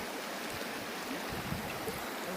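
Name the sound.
large river flowing in Siberian wilderness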